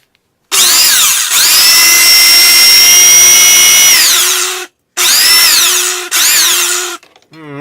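Restored vintage Black & Decker drill running with a loud, close, high-pitched whine that sounds unhealthy, in three bursts: a long run of about four seconds, then two shorter runs, each ending as the motor spins down, with no talking.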